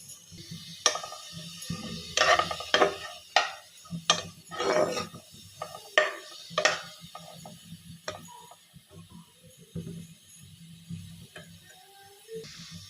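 A spoon stirs washed raisins in ghee inside a cooking pot, giving irregular sharp clicks and scrapes against the metal, busiest early on and then thinning to sparse, quieter taps.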